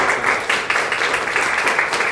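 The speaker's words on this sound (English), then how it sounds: "So please give yourself a round of applause" A crowd at a Nu Skin opportunity-sharing event applauds, a dense, steady wash of many hands clapping at once, loud and sustained with no talking.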